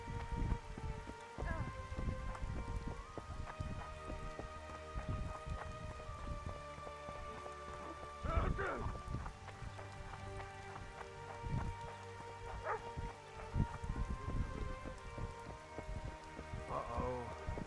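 Rain patters in the video game The Witcher 2, a soft, continuous hiss of drops heard under game music and scattered louder bumps and clatters.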